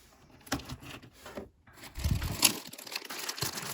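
A plastic package of vintage jewelry crinkles and rustles in short bursts, close by, with brief quiet gaps between handling sounds.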